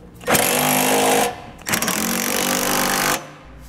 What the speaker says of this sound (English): Next, with a 19 millimeter socket, we're going to tighten all of our hardware.